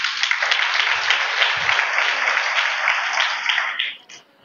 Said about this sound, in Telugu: క్లాప్స్ కొట్టి గట్టిగా